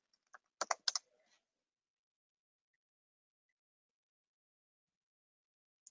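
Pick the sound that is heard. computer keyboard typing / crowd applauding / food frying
computer keyboard typing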